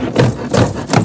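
A handsaw cuts through the web of an ICF foam block in three quick back-and-forth rasping strokes, close and fairly loud, with no talk.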